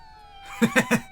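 A cat in an episode of the anime Frieren gives three quick, close meows in rapid succession over a faint sustained musical tone.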